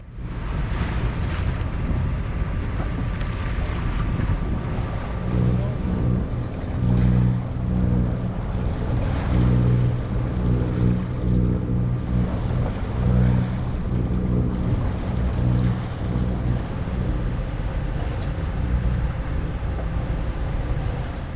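A sailboat motorsails on flat, nearly windless water toward Isla Taboga, its engine a steady low drone under continuous wash and light wind buffeting the microphone.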